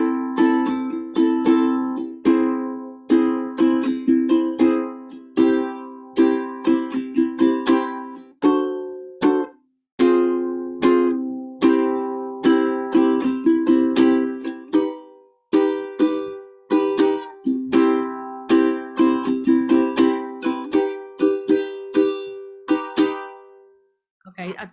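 Guitar chords strummed in a steady down-up pattern, with a quick thumb roll on the third beat of each bar, played close and clear with brief pauses between phrases.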